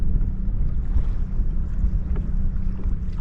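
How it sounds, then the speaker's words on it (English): A bass boat motor drones steadily at low pitch, passing nearby over reservoir water with some wind noise and no voices. "that bass boat's gonna go down there and fish that pocket"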